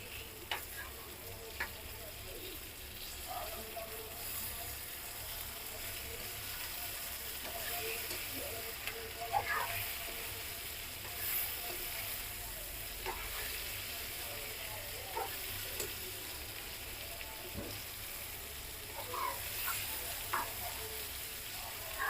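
Potato and eggplant pieces fry in a pan with a steady, close sizzle that crackles throughout, broken now and then by small ticks and light stirring.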